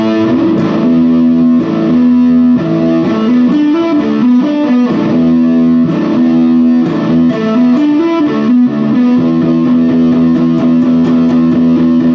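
Heavy distorted electric guitar through an MXR Prime Distortion pedal plays a loud, sustained riff with thick, gritty chords and low droning notes, continuous throughout with no voices.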